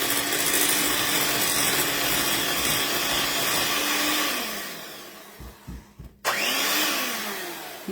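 An electric mixer whirs loudly and steadily as it beats cream cheese, then sputters and cuts out briefly before starting back up with a falling whine.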